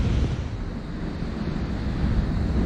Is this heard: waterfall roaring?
yes